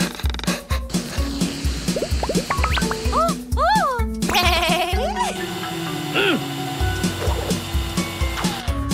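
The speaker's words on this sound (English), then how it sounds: "The vacuum's angry because it's got lots of work to do." A cartoon vacuum cleaner drones and whirs in a pulsing rhythm, layered with rising and falling squeals and cartoon effects, loud throughout.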